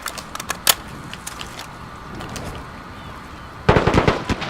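Quick metallic clicks and clacks of a gun being reloaded in the Modern Warfare video game, a scattered series of small mechanical snaps at first, then a louder cluster of rattling clicks near the end.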